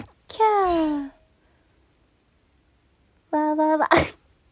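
A young woman from a K-pop girl group sneezes twice, each a high, voiced, squeaky burst, separated by about two seconds of near silence.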